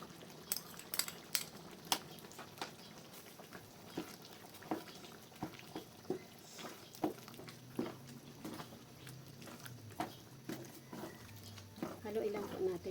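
Pork minudo with liver spread being stirred in a pan, with a utensil clinking and scraping in quick repeated strokes throughout, soft and close, under a speaking voice.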